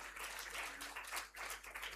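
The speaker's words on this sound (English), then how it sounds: "Please give them another big round of applause." Panel audience at a high-level stakeholders' dialogue on elections in Uganda claps after the discussion, a brief, faint patter of applause heard from a distance.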